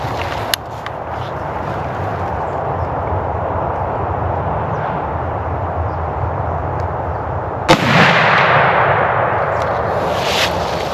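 A muzzleloader rifle fires a single sharp shot outdoors during a late-season hunt on public land, cutting through steady wind-like background noise near the end, with a fainter click earlier.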